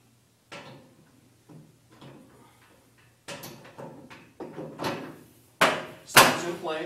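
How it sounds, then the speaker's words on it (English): An ASKO condenser dryer door being shut and locked into place, a series of sharp plastic knocks and clicks building to two loud closing thumps near the end, with a faint background hum between. "You go ahead and shut the door, lock it in place, and then put the cover back on."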